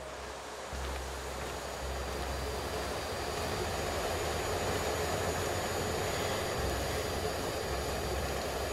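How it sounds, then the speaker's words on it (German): Helicopter flying in the video game Chernobylite, a steady low rumbling rotor and engine drone that holds at a fairly even, moderately loud level throughout without any talk. "Wir haben nur einen verfuckten Helikopter hier."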